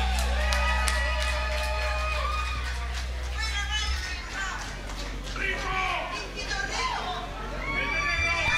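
Concert crowd at a Fiestas Patrias celebration shouting and whooping, a dense, steady wash of many voices with scattered calls rising above the chatter throughout.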